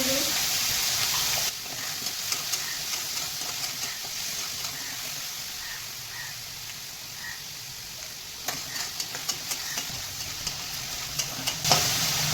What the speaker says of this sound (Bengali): আমি এবার প্রথমে চিংড়িটাকে ভেজে নেবো